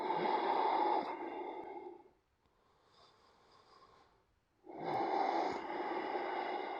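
Deep breaths taken while holding a yoga pose: a long, loud, airy exhale-like rush, a quieter softer breath, then another strong breath that keeps going, all close to the microphone with no talking.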